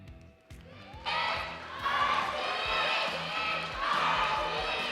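A loud esports arena crowd at an MPL Philippines Season 11 match cheers alongside cheerleaders after a sweep win, a dense sustained roar that swells about a second in and stays high to the end.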